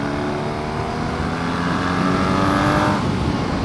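A BMW R nineT Racer motorcycle leans into a corner on an open road, its engine a steady, loud drone that swells slightly toward the end, with wind rushing past throughout.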